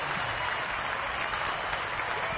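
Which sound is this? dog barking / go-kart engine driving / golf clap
golf clap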